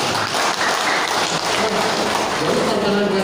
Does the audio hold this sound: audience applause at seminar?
yes